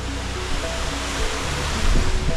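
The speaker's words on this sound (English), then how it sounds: "You just got this amazing waterfall." A massive waterfall on a mountain in England, a dense, steady roar of rushing water heard up close and loud, with no voices.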